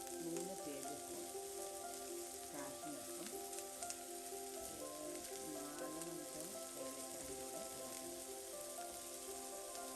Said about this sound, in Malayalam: രണ്ട് വലിയ സവോള ഇട്ടത് വഴറ്റിയെടുക്കാം